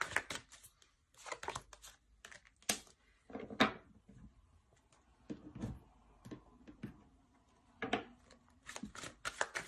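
Tarot cards handled on a table while a spread is laid out: soft papery slides, shuffles and taps come in scattered bursts, with a few sharper snaps of a card set down, close by and fairly quiet.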